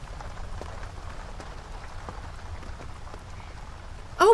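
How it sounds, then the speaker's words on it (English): Heavy rain pours down over a campsite in a steady, dense hiss of drops lasting throughout, with a brief louder burst of sound at the very end. "At first the rain was light, but now it's pouring down in sheets."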